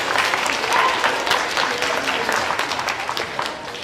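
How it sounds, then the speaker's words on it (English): An audience at a school event applauds, many hands clapping in a dense, continuous patter that starts strong and slowly tapers off a little toward the end. "go ahead and give him a round of applause."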